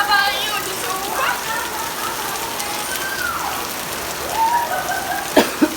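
Steady rain pours down on a street while a person bathes in it; the hiss is constant, with voices calling faintly over it and a few sharp knocks near the end.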